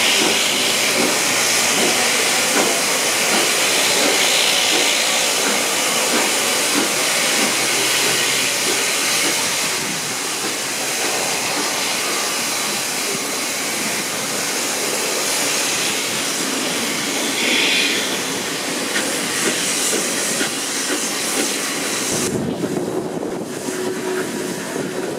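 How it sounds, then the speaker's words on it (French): The safety valve lifts on steam locomotive 241A65 standing at a closed entry signal, releasing a loud, continuous roaring hiss of steam that holds steady for a long stretch, then cuts off abruptly near the end. "un arrêt au signal d'entrée fermé nous ait offert une superbe levée de soupape"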